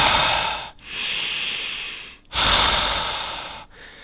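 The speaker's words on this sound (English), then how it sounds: "Breathe in, hold for 4 seconds, breathe out, hold for seconds." Deep, loud breaths close to the microphone, alternating long breathy inhales and exhales in a slow rhythm of three pulls separated by brief pauses, with no speech.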